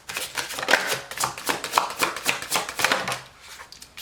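Tarot cards shuffled by hand in a quick, steady run of crisp riffling flicks and soft slaps, close and fairly quiet, with no talk over it.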